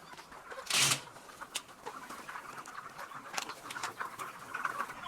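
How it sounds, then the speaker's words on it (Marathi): Soft clucking and scattered bird calls from a flock of 38-day-old broiler chickens in a poultry shed, with a brief louder flutter near the start and steady rustling throughout. "आज जाऊन बघून घेऊया आपण कशा आहेत नेमकं कोंबड्या"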